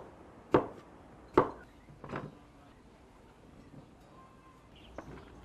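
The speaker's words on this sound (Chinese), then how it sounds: "我还洗了点点芹菜、大葱，把它们全部改一下刀" A knife cuts celery and scallions on a cutting board, making three distinct knocks spaced under a second apart and a fainter tap later. The sounds are close, set against low background noise, and no one speaks.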